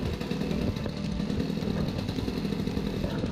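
A model airplane's engine runs steadily at a starting area of a flying field, a loud continuous buzzing drone that holds at an even pitch for the whole stretch with no voices over it.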